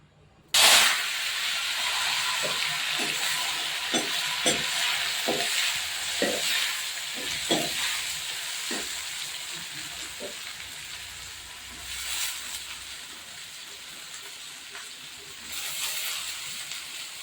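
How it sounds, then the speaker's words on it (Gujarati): Kankoda (spiny gourd) vegetable tempered and stirred in hot oil, with a loud sizzle bursting in at the start, then continuous frying hiss punctuated by a series of sharp clinks and scrapes from stirring. "આપણે શાક વઘારી દઈએ"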